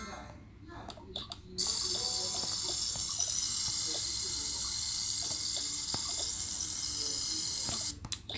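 Simulated shower running in the Toca Boca video game, a steady hissing spray that starts abruptly and stops near the end, with faint clicks and a quiet voice in the background.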